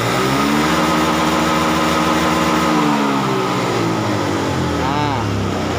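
A Honda Scoopy scooter engine, running rough and sputtering, revs up and down as the throttle is twisted, a steady close mechanical drone with a rising whine near the end while someone talks over it.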